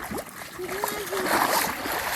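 Hill-stream water flows and splashes down toward a tidal creek, a steady close rush with splatters, while a voice and other talk carry over it.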